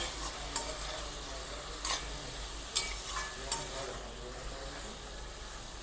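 Spice paste being stirred into half-cooked bottle gourd greens (lau shak) in a pan, a low steady sizzle with a few sharp scrapes of the spoon, fairly faint and with no talk.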